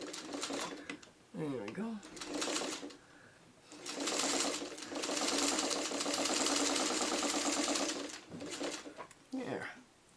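A home sewing machine stitches fabric pieces together into the roof of a traditional house quilt block, running in steady bursts of rapid mechanical whirring, with short pauses and a voice speaking briefly near the start.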